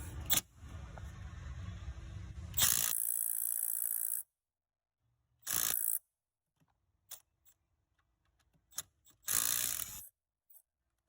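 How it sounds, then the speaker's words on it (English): Milwaukee right angle impact wrench on 10 mm thermostat bolts of a Ford 4.6 engine, loud close bursts of rapid hammering, a long run followed by several shorter hits separated by silence. "Got my impact. See if we can get these bolts off."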